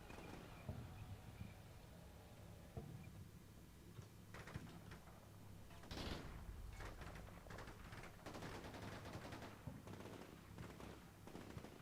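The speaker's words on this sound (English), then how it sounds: "Oh, they're shooting at a guy over here." Distant small-arms and machine-gun fire crackles in the Combat Mission: Shock Force 2 military strategy game, scattered faint pops and short bursts over low background rumble, quiet and irregular.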